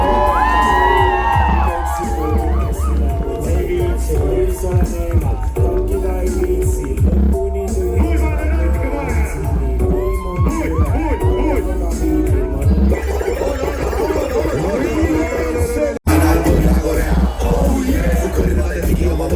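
Crowd at a live hip-hop concert at a festival cheers, whoops and yells steadily and loudly throughout, with a brief cut near the end.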